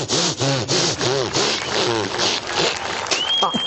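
A voice imitates a saw blade cutting plywood with rhythmic, looping vocal rasps repeated several times at close range, ending with a thin rising whistle-like tone.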